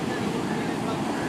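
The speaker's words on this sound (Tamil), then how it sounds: "சீரற்ற வானிலையால் மட்டக்களப்பு மாவட்ட கடற்பிராந்தியத்தில் கடல் சீற்றம் தொடர்ந்தும் அதிகரித்து காணப்படுவதால்" Rough sea surf along the Batticaloa coast of Sri Lanka in stormy weather, a steady loud roar of breaking waves blended with gusting wind noise, continuous and without pause.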